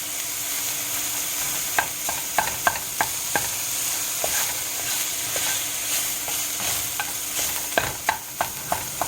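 Finely chopped sausage sizzles and fries in a pan, a steady hiss broken by sharp, irregular taps of a utensil stirring and chopping against the pan.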